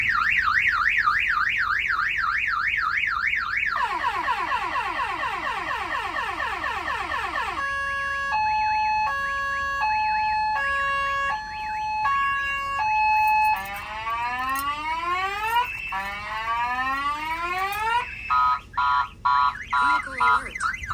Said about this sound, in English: the alarm is going to fire off.